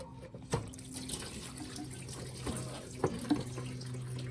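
Coolant trickling from the disconnected heater core lines of a BMW E30 with an M52 engine into a catch bin, a low steady pour with a few small splashes and clanks, close by.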